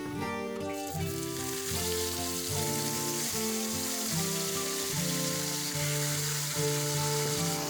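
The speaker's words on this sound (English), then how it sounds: "we're going to brown the bacon on both sides, get it nice and crispy" Thin-cut bacon frying in a smoking-hot pan gives a steady, dense sizzle with crackle throughout, heard under prominent background music.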